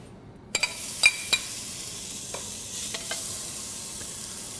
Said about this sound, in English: So the first step we need to do is render the bacon.